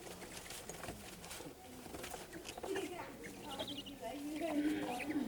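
A captive owl, handled on leather straps during a wildlife education show, gives soft cooing hoots near the end under a person's speech and room noise.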